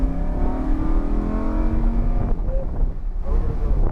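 Race car engine at Xtreme Xperience on a track with cones, running loud and steady with a rising drone that dips around the middle and then builds again, close and continuous throughout.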